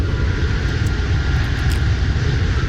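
Airplane in the video game Flight Line touching down and rolling on the runway under autopilot, a steady loud engine rumble with constant roar throughout, no voices.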